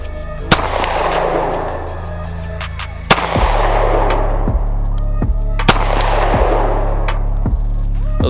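A Hi-Point C9 budget 9mm pistol fired outdoors at distant targets, three loud sharp shots spaced a few seconds apart, each with a long echoing decay, over a steady background hum.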